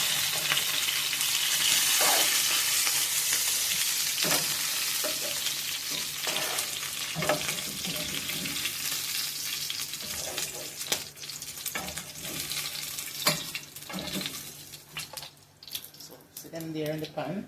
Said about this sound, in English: then I'm going to put the remainder in there to fry